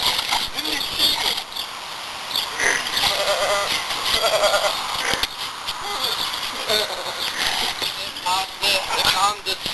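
A goat bleats repeatedly amid a chaotic scene, its cries mixed with loud, agitated shouting voices throughout.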